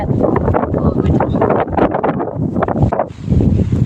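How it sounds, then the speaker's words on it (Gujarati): Cold wind blowing across a rooftop terrace, a steady broadband buffeting rush on the microphone with gusts that dip briefly near the end, loud and continuous. "પવન ઠંડો આવે છે"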